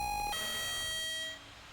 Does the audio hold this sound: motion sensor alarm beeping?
yes